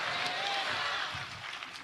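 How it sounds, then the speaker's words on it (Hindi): A church congregation at a Pune crusade prayer meeting claps together in a steady, continuous burst of applause that fills the hall, with no clear voice on top. "जोर से ताली बजा दो।"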